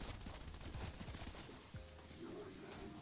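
Gunfire from Call of Duty Cold War Zombies, faint bursts of rapid game shots in a busy, noisy mix, thick at first and then thinning out, with a low steady hum behind them.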